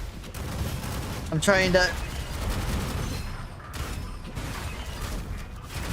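Heavy, rapid gunfire from a gun video game with strong recoil, dense and loud throughout, with a brief spoken voice over the shots.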